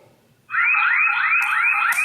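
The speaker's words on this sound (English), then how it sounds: "So I turn it off, and the alarm is triggered." A Bluetooth anti-theft device alarm goes off abruptly after a quiet moment, emitting a loud, continuous warbling electronic tone that repeats in rapid rising sweeps, close and alone.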